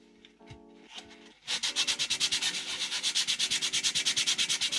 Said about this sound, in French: Donc on s'attaque au ponçage.